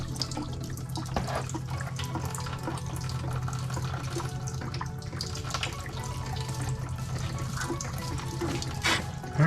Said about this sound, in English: Alright, that's just radiator draining now